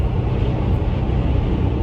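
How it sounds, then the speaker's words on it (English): A truck's engine and road noise make a steady, loud, broadband rumble from inside the cab, continuous and unbroken for the whole short stretch. "I'm actually driving in my truck"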